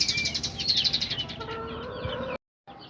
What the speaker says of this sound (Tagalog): Yan mga pare ko, ito na si Bantam